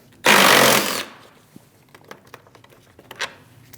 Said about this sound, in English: Remove the two 10mm bolts for the fan.